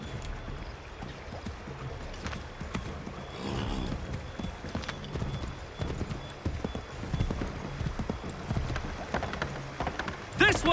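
Horse hooves clip-clop steadily through Assassin's Creed 3, a continuous trotting rhythm with some faint background ambience and occasional voice-like sounds.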